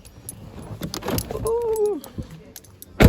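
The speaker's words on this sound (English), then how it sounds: "I need my keys" Metal keys jingle in short bright bursts near a car, mixed with a voice calling out briefly in the middle and a sharp clink at the end.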